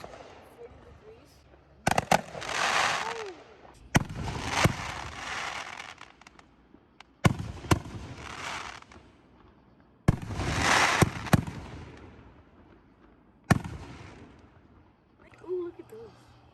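Several fireworks bursts at a vacation display, including Roman candle shots, boom in widely spaced blasts with crackling tails, each sharp onset followed by a decaying rumble; voices talk between the explosions.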